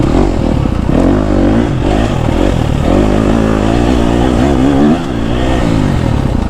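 A KTM 250 SXF dirt bike is ridden hard on a forest trail, its four-stroke engine held in second gear and revving loud and continuous up close, with rising and falling pitch and occasional clatter from the terrain.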